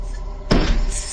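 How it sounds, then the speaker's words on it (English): An attic door moves on its own, giving one sudden knock or bump partway through, loud and close against a steady low background hum. "As Nick approaches, the attic door opens on its own."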